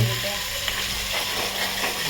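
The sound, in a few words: crushed tomato puree sizzling in pan for chole sabzi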